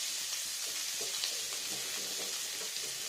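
Sliced onions sizzle in hot oil left over from frying fish, a steady, close, dense crackle with faint stirring that holds evenly throughout, no talking.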